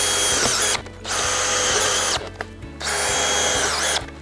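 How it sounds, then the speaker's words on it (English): A cordless drill drives screws through pre-punched holes into the base of a Gallagher Mega Anchor post, loud close whirring in three long runs separated by brief pauses, with a single word spoken. "We're going to use our cordless drill to screw the piles."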